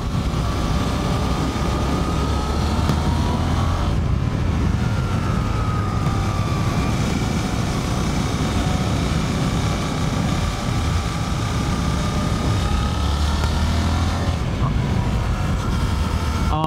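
Suzuki GSX-8S motorcycle leaned through a series of corners, its engine a steady broadband drone under heavy wind rush, pitch easing and rising slightly as the rider rolls off and back on the throttle.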